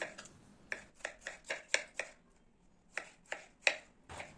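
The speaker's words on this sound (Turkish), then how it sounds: "Yine domatesleri de iri iri olacak şekilde doğruyorum" Tomatoes chopped into large chunks with a knife on a cutting board for a breakfast sauce: a steady run of sharp, close knocks in two bursts with a short pause between, no talking.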